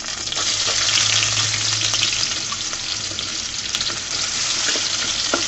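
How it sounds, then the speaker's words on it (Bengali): Onions and garlic fry in hot oil for a bottle gourd shrimp curry, giving a loud, dense, continuous sizzle with light stirring throughout. "পেঁয়াজগুলোকে আমি হালকা ভেজে নিব"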